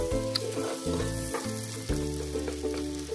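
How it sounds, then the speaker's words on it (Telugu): Chopped onion frying in butter crackles and sizzles up close, with a few scrapes and clatters of stirring in a pan, fairly loud and continuous with no talking. "Onion light golden brown colour వచ్చే వరకు ఫ్రై చేసుకోండి."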